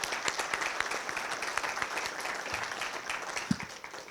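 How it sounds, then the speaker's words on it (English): Audience applause for an elder at a Falling Walls Lab finale event, a steady moderate wash of many hands clapping that continues throughout without talk. "Let's give him a round of applause again."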